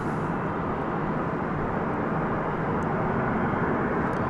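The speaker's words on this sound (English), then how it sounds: "It's American Flight 8, a Dash 8 Dreamliner." An American Airlines Boeing Dreamliner airliner arriving from Honolulu roars as a steady, broad jet rumble at night, loud and unbroken, with faint ticks on top and no talk.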